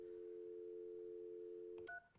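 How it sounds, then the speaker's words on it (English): A steady telephone dial tone holds for nearly two seconds, then cuts off into a quick burst of touch-tone keypad beeps as an office extension is dialed, clear and close. "you hear dial tone, you're going to dial the extension or the number that you want to dial"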